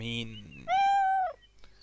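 A cat in the video game Beyond Eyes gives a single clear, drawn-out meow that rises and then falls away, following a brief voice-like sound at the start.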